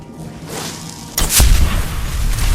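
A shot is fired in the video game Skyrim Dawnguard: a sudden loud, close burst with a deep thump breaks a quiet ambient drone, followed by a sustained rumbling roar.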